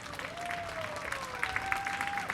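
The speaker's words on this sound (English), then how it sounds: "A well-deserved round of applause" Warm applause for a well-played shot in a women's pairs bowls final, with steady clapping that swells toward the end while a commentator talks over it.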